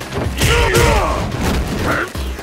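A Sonic Boom special attack in Ultra Street Fighter IV, a loud punchy projectile whoosh with thumping impact layered with game effects and a shouted in-game voice.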